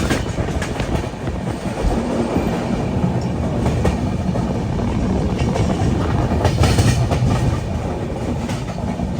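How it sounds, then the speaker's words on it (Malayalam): Aronai Express passenger train rolling along the rails near Balasore, a continuous loud rumble with rhythmic clickety-clack of wheels over rail joints, heard from on board. "ബലേശ്വർ റെയിൽവേ സ്റ്റേഷൻ ഇതാ ട്രെയിൻ എടുത്തിരിക്കുകയാണ്"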